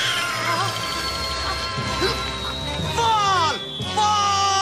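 A cartoon kitten meows repeatedly in drawn-out, rising and falling cries, loud and close, over an animated soundtrack with a faint background tone.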